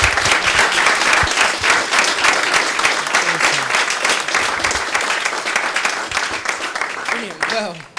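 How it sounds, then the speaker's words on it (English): A large audience at a careers fair breaks into a loud, dense round of applause that holds steady for several seconds, then thins out and fades near the end. "Massive round of applause."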